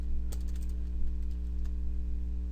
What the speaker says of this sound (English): I'm dying of typing here